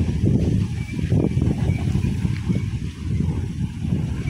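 A motorized wooden fishing outrigger boat (bangka) in the Philippines gives a steady, close, low engine rumble throughout, blended with gusty wind buffeting.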